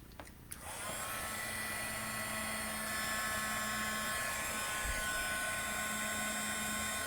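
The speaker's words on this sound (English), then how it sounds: "I'm just going to get out my heat emboss tool and heat set that, so just bear with me a moment while we have some noise going on here" A heat embossing tool whirs on after a click and runs at a steady, droning hum with a faint high whine, continuous and fairly close.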